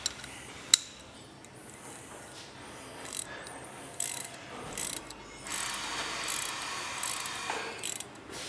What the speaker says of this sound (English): These bolts get torqued down to 120.